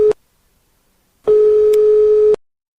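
An outgoing phone call rings back to the caller while waiting for an answer. One short tone is followed after a pause by a longer steady ring, with nothing else heard.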